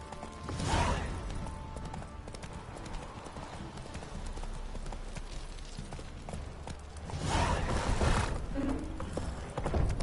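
A horse's hooves clip-clop at a steady gallop in The Witcher 3, rhythmic and fairly faint, with louder surges of hoofbeats near the start and again toward the end.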